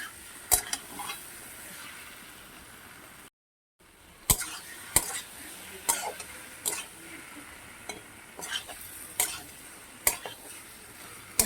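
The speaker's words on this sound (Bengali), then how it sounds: "এবার মিডিয়াম ফ্লেমেই আমি ভাজবো" Mutton fries with spices over a medium flame, a low sizzle broken by sharp, irregular clinks and scrapes of a utensil against the pan, with a brief silent gap early on and no talking.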